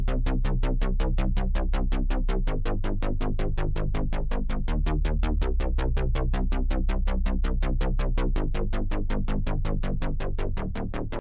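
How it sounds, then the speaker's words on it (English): Plucky Serum synth bass in a post-punk style beat, a fast steady run of short 16th-note pulses shifting pitch every few bars, loud and alone. "I basically laid down this really simple bass pattern all in 16th notes"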